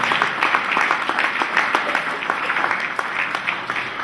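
A church congregation applauds and acclaims Jesus, loud sustained clapping from many people filling the room, with rhythmic peaks and a continuous crowd roar throughout.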